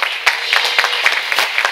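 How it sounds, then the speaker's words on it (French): Congregation clapping in rhythm at a church praise and thanksgiving festival, a steady beat of distinct claps over crowd noise, fairly close and moderately loud. "Let's clap for Jesus."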